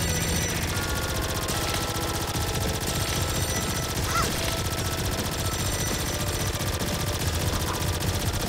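Rapid continuous gunfire from a weapon in the Demon's Crystals shooter, a dense stream of fast repeating shots with a steady rattling rhythm and no pauses, loud and unbroken throughout.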